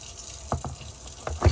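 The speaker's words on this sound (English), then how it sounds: "So we have both faucets running here. just trying to get it, fill the tank up." Water runs from both faucets of an RV to fill its tank, a soft steady flow with a few brief splashes and drips near the end.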